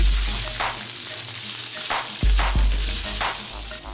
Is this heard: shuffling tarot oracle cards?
no